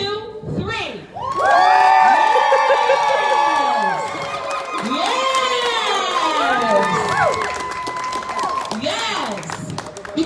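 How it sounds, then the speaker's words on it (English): A crowd at a ribbon-cutting ceremony for a Brooklyn office grand opening erupts into loud, sustained cheering and shouting with whoops, close and energetic, after a brief quiet moment. "I want you to give your loudest cheer to Power of Two and welcoming them into their new home"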